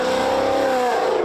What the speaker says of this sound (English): every time a driver shows off by hitting the gas.